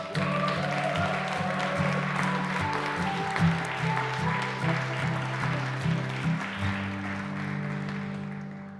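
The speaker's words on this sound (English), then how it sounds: "Give them a big applause." Audience at a sustainable tourism award ceremony in Cascais applauding a front-runner group, steady clapping under sustained music or tones, moderately loud and fading slightly toward the end.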